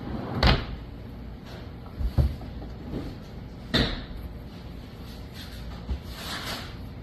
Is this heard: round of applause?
no